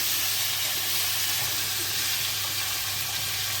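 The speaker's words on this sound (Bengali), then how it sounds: "মাথাটা ভেজে নেব আগে, মাছের মাথা" A fish head frying in hot oil gives a steady, close, bright sizzle and hiss that holds evenly throughout with no voices.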